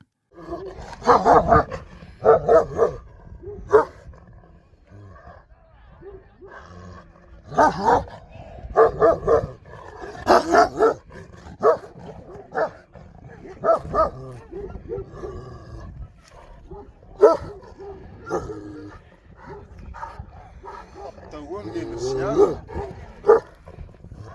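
Alabai dogs bark in repeated, loud bursts at a dog tournament in Turkmenistan, some deep and roaring, with someone talking over them throughout.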